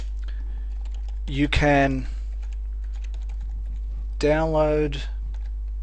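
Typing a message on a computer keyboard: soft, quick keystroke clicks tick steadily in the background while a voice speaks briefly twice over them.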